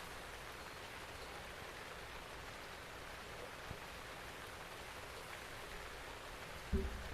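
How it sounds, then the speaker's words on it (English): Rain falling in the video game Zelda: Breath of the Wild 2, a faint, steady hiss that continues evenly throughout with one soft thump near the end. "It's still raining, I know"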